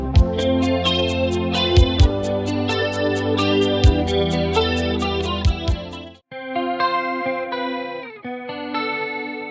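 A song plays loud with steady drum hits under bright chorus-effected guitar, then drops to a clean guitar figure alone for the last few seconds.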